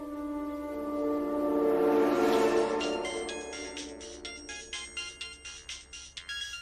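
A phone ringtone plays alone: a rising sustained melodic tone swells then gives way to a rapid series of bright, repeating electronic chimes pulsing to the end.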